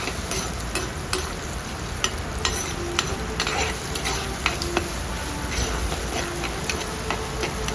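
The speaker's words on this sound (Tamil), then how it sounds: "வெங்காயத்தை நல்லா வதக்கிக்கலாம்." Sliced onions sauté in a pan for a dried-fish (karuvadu) thokku, a steady close sizzle broken by regular clicks and scrapes of a stirring spoon, with no one talking.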